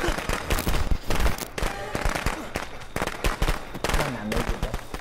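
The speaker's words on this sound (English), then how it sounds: "I used my fireworks." Fireworks going off in the Friday the 13th video game, a rapid, loud string of sharp crackling pops and bangs bursting for several seconds close by, with excited voices talking over the barrage.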